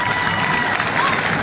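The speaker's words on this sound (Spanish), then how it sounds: "¿Dónde está el aplauso?" A crowd at a Mexican charreada rodeo at Rancho La Misión in Colusa, California claps in a brief, loud burst, with a voice carrying over the applause.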